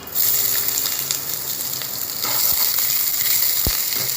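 Ginger paste and green chilli fry in hot oil with a steady loud sizzle throughout, a few sharp clinks from a utensil against the pan near the end.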